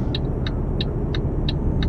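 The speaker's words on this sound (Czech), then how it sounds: "To auto má zvuk jak moped." A car engine with a buzzy, moped-like note rumbles steadily up close, with a faint, regular ticking repeating about three times a second over the drone.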